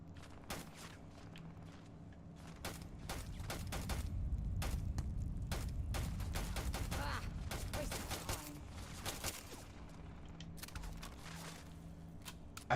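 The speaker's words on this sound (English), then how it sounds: "there's people down here shooting at us" Rapid volleys of gunshots from hostile people firing in the space game Starfield, repeated cracks scattered throughout with a rumbling boom in the middle and faint movement sounds, no talking.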